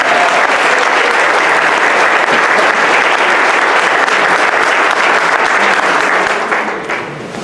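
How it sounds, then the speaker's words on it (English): An audience at a Scotch Plains Fanwood board of education meeting claps steadily in a loud, dense wash of applause that holds for several seconds before tapering off at the end. "Yes, you can applaud."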